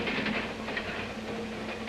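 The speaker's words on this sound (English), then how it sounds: "men and mail in transit speed the mail on speeding trains" Speeding railway mail train in transit: a steady rushing roar of rail cars with a faint rhythmic rail clatter running underneath, continuous and moderately loud, with no voices.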